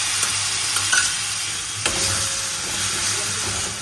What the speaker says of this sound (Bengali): দইটাকে দিয়ে একটু নাড়িয়ে চাড়িয়ে